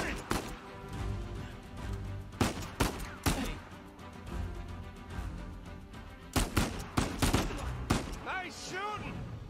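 Sharp, loud gunshots ring out in Uncharted 4, in irregular single cracks and short clusters with echoing tails, and a voice is briefly heard near the end.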